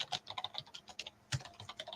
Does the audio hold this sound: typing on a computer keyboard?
yes